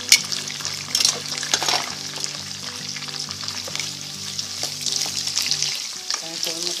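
Longaniza sausage and onion sizzle and crackle in a pan with a continuous hiss, while a utensil scrapes and stirs with occasional knocks against the pan.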